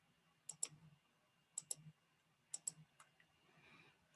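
Computer mouse clicks while working in CAD software, crisp quick double clicks in small bursts with short pauses between, close but quiet in an otherwise still room.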